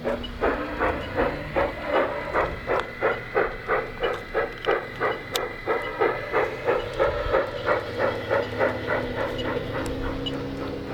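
Two model train engines run together on a layout, giving a steady rhythmic chuffing with hissing steam effects, evenly pulsing and fairly close throughout.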